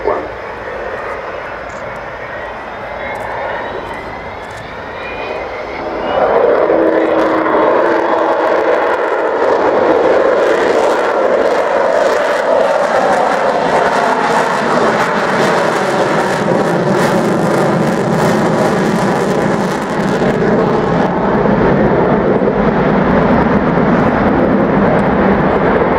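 The Avro Vulcan XH558 bomber at the Farnborough airshow swells from a distant jet rumble into a loud, sustained roar with a howling, shifting tone as it climbs, filling the air for over twenty seconds.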